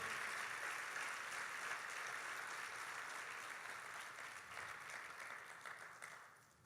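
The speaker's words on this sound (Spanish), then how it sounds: "déle el mejor aplauso al Señor en esta mañana" Church congregation applauding during a morning service, a continuous crowd of clapping heard at moderate distance that gradually thins and fades toward the close.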